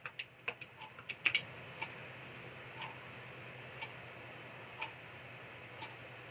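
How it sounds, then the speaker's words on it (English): Calculator keys being tapped in a quick burst of light clicks that then thin out to a few isolated taps, faint and close against a quiet room hum. "if you type this into a calculator"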